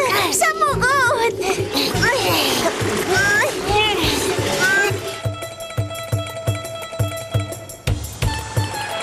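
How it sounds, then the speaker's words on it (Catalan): Water splashes and sloshes in a loud, busy stretch, overlapping with excited voices and whistling tones, then gives way to music with sharp rhythmic hits. "D'on surt aquesta aigua?"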